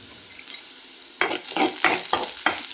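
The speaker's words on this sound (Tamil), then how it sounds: "தக்காளி வெங்காயம் எல்லாம் போட்டு வதக்கி" Tomatoes and onions with a little chana dal sautéing in a pan for yellow pumpkin kootu, a steady sizzle broken by several rhythmic scraping stirs of a spoon, close and fairly loud with no talk.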